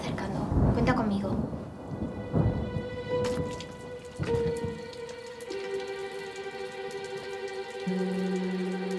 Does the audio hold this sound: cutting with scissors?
no